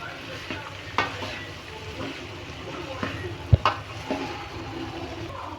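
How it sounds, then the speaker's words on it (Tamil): Boiled vegetables being stir-fried for veg kurma, a low sizzle under scattered spoon clatters and knocks against the pan, with some background talk. "ஸோ இதை நல்லா அப்படியே கிண்டி விடுங்க."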